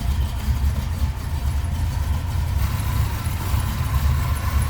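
A 1971 Chevrolet Nova engine idling steadily with a low, smooth rumble that holds even and continuous from start to finish.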